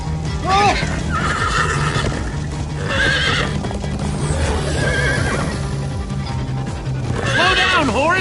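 Horses in the Minecraft Story Mode video game neigh and whinny repeatedly over steady galloping hoofbeats, with a game soundtrack and voices running underneath throughout.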